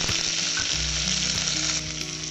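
Crushed onion frying in hot oil with mustard seeds, chana dal and curry leaves for a drumstick poriyal, a loud steady close sizzle throughout with faint stirring and no voices.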